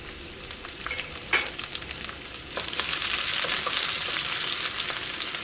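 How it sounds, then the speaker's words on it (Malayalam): Garlic, cumin and green chilies fry in hot oil for a cherupayar curry, with a crackling sizzle that swells into a loud, steady hiss partway through, a few stirring clinks near the start. "ഈ വെളുത്തുള്ളി നന്നായിട്ട് മുരിഞ്ഞ് വരണം കേട്ടോ"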